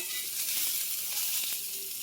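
Turkey meatballs sizzle and fry in a pan, a steady close hiss with faint crackles and a few soft clinks throughout.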